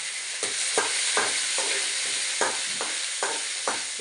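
Curry leaves crackle and sizzle in hot oil in a pan while being stirred for idli upma, a steady broadband fry broken by about eight sharp scraping strokes of the spoon, close and fairly loud.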